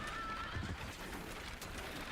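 A horse whinnies in the video game Parasite Eve, a brief neigh with clip-clop sounds over a constant game background.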